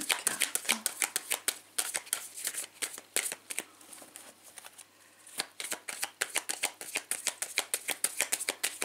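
Tarot cards are shuffled by hand in a long run of crisp, rapid riffling flicks close to the microphone, with a brief lull midway before the quick rhythmic snapping resumes.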